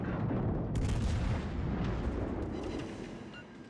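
Warship guns firing in the naval combat game World of Warships Legends, heard as a heavy, booming salvo with a deep rumble that rolls on and fades slowly over a few seconds.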